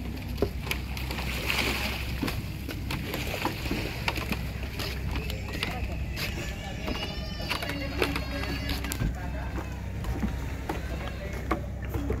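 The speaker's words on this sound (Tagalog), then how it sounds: "paparating na yung bangka. Yung susundo sa amin." A bangka, a Filipino outrigger boat, arrives at the shore near Magalawa Island in Zambales to collect passengers, its motor droning steadily under wind noise, splashing and people chatting nearby.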